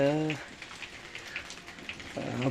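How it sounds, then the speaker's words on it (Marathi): Heavy morning monsoon rain in coastal Konkan, a steady soft patter of drops on surfaces throughout, with someone speaking close at the start and end. "आता पाऊस चालू होता बघू शकता"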